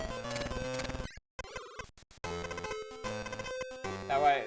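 Mario's Picross video game sound effects, clanky high-pitched chiseling-on-stone noises, stutter in choppy bursts over busy game music, with brief gaps of near silence.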